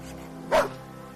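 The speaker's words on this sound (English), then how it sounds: "Hazel took a step back and barked at Brutus." A single short dog bark, brief and fairly loud, rises once above a low, steady background hum with nothing else around it.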